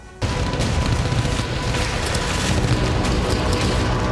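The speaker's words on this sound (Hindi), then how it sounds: "दक्षिण चीन सागर में चीन ऐसे कई धमाके कर चुका है" Missile explosions over the South China Sea hit with a sudden loud blast that becomes a sustained, dense roar of crackling debris and rumble lasting several seconds, with no voices.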